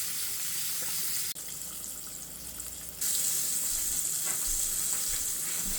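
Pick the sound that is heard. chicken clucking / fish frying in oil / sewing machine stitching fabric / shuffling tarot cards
fish frying in oil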